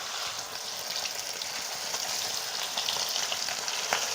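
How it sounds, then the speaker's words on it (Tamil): Seer fish frying in oil in a pan on a low flame, giving a loud, continuous, close hiss of sizzling bubbles that stays steady throughout, with no voices. "மீனை மெதுவாக இந்த எண்ணெயில் சேர்த்துக்கோங்க"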